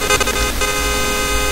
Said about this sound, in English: Honking for help.